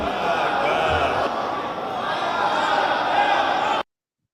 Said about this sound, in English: chanting death to America